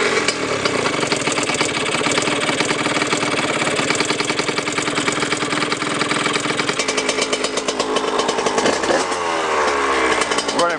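A Honda CR80R two-stroke motorcycle engine runs after a carburetor swap, a loud, raspy, rapidly pulsing buzz that holds steady, then dips and rises as the throttle is blipped near the end.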